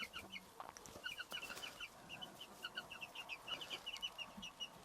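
Young chicks in a homestead chicken hut in Finland in early spring, a steady patter of high, soft peeping and clucking calls, faint and fairly close, with no talk.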